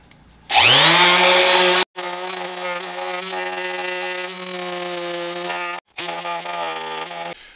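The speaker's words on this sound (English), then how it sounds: "so I got that sanded down, only oh, took a few minutes." A power sander works on a piece of scrap wood for a DIY geometric bookshelf. It makes a loud, steady whine close by that cuts out briefly twice and then resumes.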